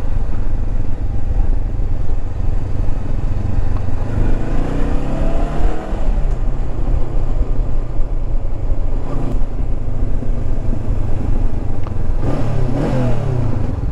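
Honda CB500X 2019 motorcycle engine droning steadily and fairly loud while riding, with rising and falling revs and a constant rumble of wind and road noise throughout.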